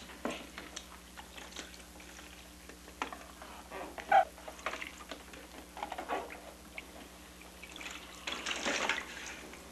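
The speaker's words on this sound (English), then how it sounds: "And rinse the plate." Soft trickles and drips of water as a plate is rinsed by hand, quiet and close over a faint steady hum, with a brief louder splash near the end.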